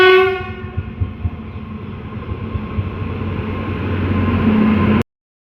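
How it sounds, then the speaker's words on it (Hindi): A train pulls into a Delhi station, sounding its horn at first, then a rising rumble and clatter of wagons rolling close by that grows steadily louder until cut off. "सामने अपनी ट्रेन आ रही है"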